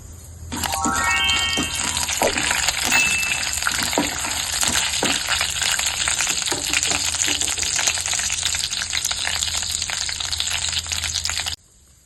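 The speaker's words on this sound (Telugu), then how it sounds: "ఇప్పుడు ఆయిల్ వీట్ అయ్యాక ఆవాలు, జీలకర్ర, శనగపప్పు ఈ మూడు వేసుకొని కొంచెం లైట్గా వేయించుకోవాలి." Mustard seeds, cumin and chana dal crackle and sizzle loudly in hot oil, close up, in a dense steady frying hiss with scattered popping seeds that stops abruptly at the end.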